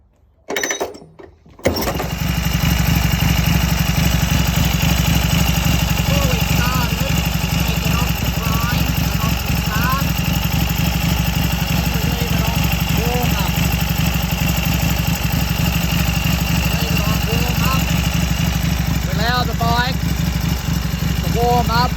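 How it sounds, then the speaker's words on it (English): A 1934 Indian Standard Scout motorcycle fires up on a single brisk kick after a brief quiet moment, then settles into a loud, close, steady idle that chugs on without a break. "now we give it one brisk kick to start the bike up"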